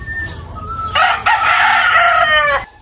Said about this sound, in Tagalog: Tilaukan.